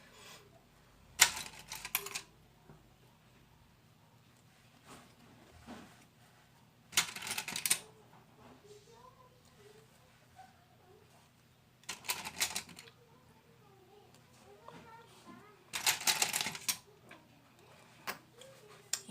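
A sewing machine with a zipper foot stitches a zipper seam on a lined toiletry bag in four short, quick bursts separated by pauses, with faint background noise in between.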